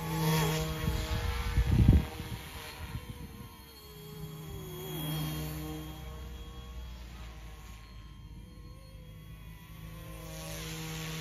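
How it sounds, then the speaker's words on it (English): A YuXiang F08 Bell 206 Jet Ranger RC helicopter in flight gives a steady, buzzing electric whine with shifting tones, a louder burst early on, then a sustained drone that rises and falls as it moves. "Very beautiful helicopter."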